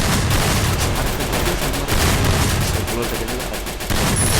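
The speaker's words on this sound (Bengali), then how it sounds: "শটগান দিয়ে যাতা দিতেছে ভাই, স্নাইপার দিয়ে মারতেছে ভাই" Shotgun and sniper fire in a Free Fire battle royale match, a dense, loud, continuous barrage of shots and blasts that fills the whole stretch without a break.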